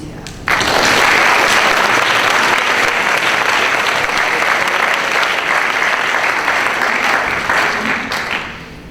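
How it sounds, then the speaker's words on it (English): A loud, sustained round of applause from a lecture audience honoring a university editor and scholar, bursting in abruptly, holding a full even roar of many hands for about eight seconds, then tapering slightly at the end. "I think we should give him a round of applause"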